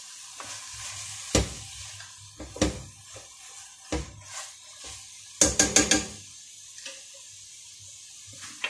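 Onion and carrots frying in a pan, soft sizzling broken by scattered scraping stirs and a brief cluster of sharp clatters, close and fairly quiet.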